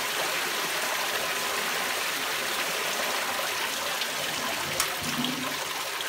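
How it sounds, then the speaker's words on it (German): An 8000-litre water pump pushes water through a homemade fleece filter, making a steady, close rushing and splashing flow with no break, plus one brief clunk. "meine 8000 Liter Pumpe ist definitiv zu stark für die Geschwindigkeit des Bandes"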